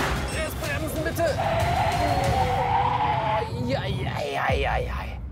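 Hard braking in a sports car, an Audi RS6 or Porsche Taycan GTS, with tires squealing and skidding loudly and steadily for several seconds; voices can be heard over it.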